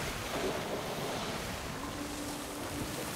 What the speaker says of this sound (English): It's choppy water.